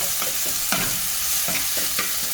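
Brussels sprouts browning in a cast iron skillet give a steady close sizzle, broken every half second or so by soft scraping stir strokes, with no voices.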